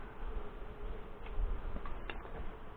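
Honey bees buzz during an inspection of a beehive, Hive 2, in June. The hum is dense and continuous, close to the ear and fairly loud, with small swells as single bees pass nearby.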